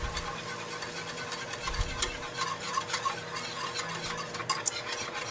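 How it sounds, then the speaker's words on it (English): Flour whisked gradually into foaming hot fat in a pan, with quick metallic whisk scrapes and ticks over a soft steady sizzle, close and fairly quiet. "now I'm just going to add my flour gradually while whisking"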